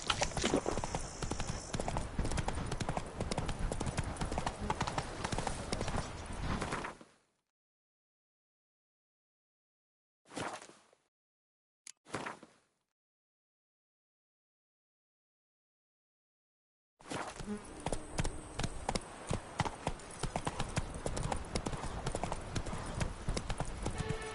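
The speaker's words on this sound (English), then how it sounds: "Whoa there, Roach." Horse hooves clip-clop in a steady trot in the video game The Witcher 3, Blood and Wine, loud and close, cutting to near silence midway with a few brief bursts before the trotting resumes.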